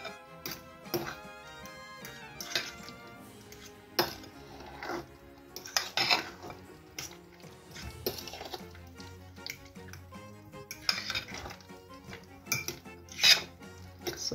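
Boiled potatoes are mashed with milk and garlic in a metal pot, making irregular clanks and scrapes of the masher against the pot with soft squelching between strikes, close by and with no talking.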